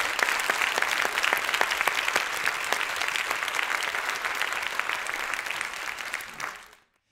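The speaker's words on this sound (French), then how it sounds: "donc on peut les applaudir." Sustained applause from a conference audience at an innovation event in Normandy, steady dense clapping that fills the whole stretch at an even level before cutting off abruptly near the end.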